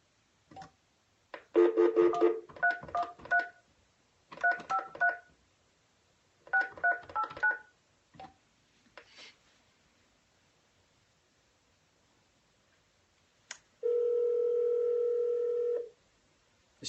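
Touch-tone keypad beeps sound in quick bursts of several digits as a prospecting call is dialed on a telephone, followed by a quiet gap and then a steady two-second tone near the end.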